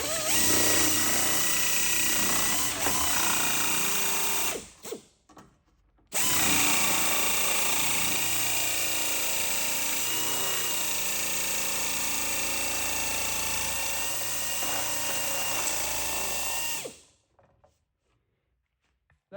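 An Astro Pneumatic air tool folds a door skin flange, a loud, close, continuous buzzing hammer that stops briefly near the middle, resumes, then cuts off toward the end.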